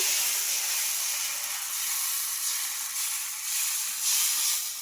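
Neer dosa batter made from ration rice sizzling on a hot pan, a steady close hiss of steam and frying that swells and ebbs slightly before cutting off abruptly.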